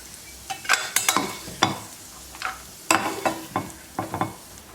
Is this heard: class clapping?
no